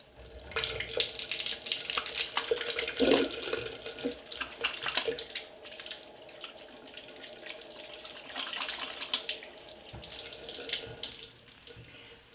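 Hot tap water runs steadily into a sink with splashing as hands are washed under the stream, close by and continuous.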